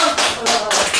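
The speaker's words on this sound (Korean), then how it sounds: "박수 쳐야지." A short burst of audience clapping at the close of a Korean history lecture, loud and near, with a few uneven pulses of hands over the roughly one-second span.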